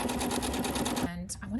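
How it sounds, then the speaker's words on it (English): A sewing machine chain piecing quilt strips runs in a fast, even stitching rattle for about a second, then stops abruptly, with a brief faint click and a soft voice after. "then you can start sewing. And we'll sew all the way to the end of this one."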